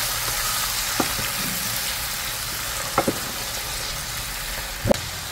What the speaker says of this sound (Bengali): টমেটোগুলোকে একটু নেড়ে চেড়ে নেব।